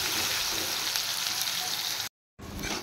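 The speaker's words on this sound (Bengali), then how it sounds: "এবার পেঁয়াজটা একটু লাল করে ফ্রাই করে নেব।" Onions frying in a pan, a loud continuous sizzle and crackle that drops to a sudden brief silence, then comes back.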